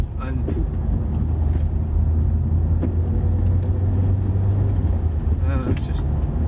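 A car driving on the road from Stirling toward Throsk, with a steady loud low engine and road rumble throughout and occasional brief voices over it.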